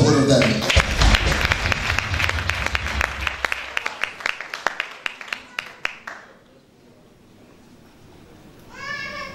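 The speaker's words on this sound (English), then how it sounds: "Round of applause for both of them." Audience applause at a spoken-word event breaks out in loud, scattered claps that thin out and fade to near quiet, followed by a voice at the end.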